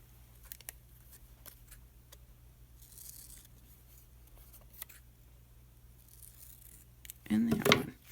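Scissors cutting fabric in a quiet room, with a few faint snips and small handling ticks, then one louder, closer crunching cut near the end.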